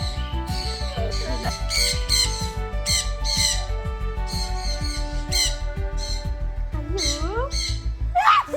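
Birds at a bird and fish park let out a rapid series of loud, harsh squawks and screeches close by, with shrill calls overlapping almost continuously.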